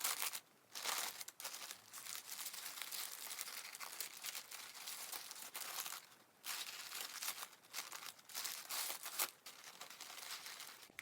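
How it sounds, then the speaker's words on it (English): Tissue paper crinkles and rustles close by while being folded around a bouquet wrap, in bursts of crackling broken by short pauses. "now I'm just folding the last two parts of the tissue paper like so"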